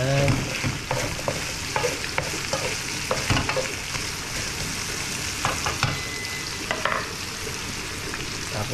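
Sweet potato sautéing in a pan for papaitan, a steady close sizzle with repeated scraping and stirring clatter of a utensil, no talk.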